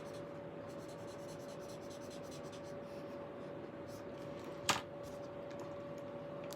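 A highlighter drags across paper at a classroom desk during a fractions lesson: a soft, steady scratching under faint room hiss, with one sharp tap near the end.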